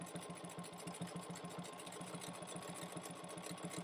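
A sewing machine top-stitching a tote bag runs nonstop with a quick, even mechanical chatter, close but fairly quiet, and no one speaking.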